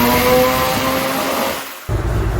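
A rotary-engine Subaru BRZ on a dyno revs loudly near its limit, holding a high, buzzy engine note before a brief cut and the sound picking back up at a lower pitch.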